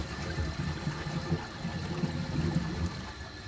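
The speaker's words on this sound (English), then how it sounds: "For the first flush test, let's see how it flushes with a dry bowl." A Glacier Bay high-efficiency all-in-one toilet from 2012 flushes with a dry bowl, giving a close, steady rush and gurgle of water with no talk.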